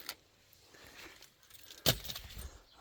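A bunch of keys jangles sharply and close at one point, during dashboard removal work on an Alfa Romeo 159, with softer handling noises before and after and no talk.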